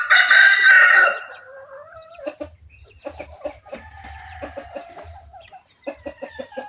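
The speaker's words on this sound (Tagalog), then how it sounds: "Maganda ng tilaok nito mga kasabay." A red junglefowl hybrid rooster crows loudly and close for about a second, followed by a series of soft clucks and faint rustling.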